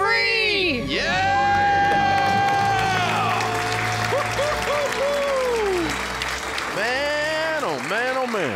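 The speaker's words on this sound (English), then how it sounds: "Let's hear a debt-free scream." A studio audience cheers and applauds after a debt-free scream, with loud whoops and sustained clapping, while excited shouting voices rise and fall over the crowd noise.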